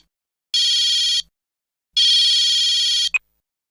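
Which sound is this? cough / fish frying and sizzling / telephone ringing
telephone ringing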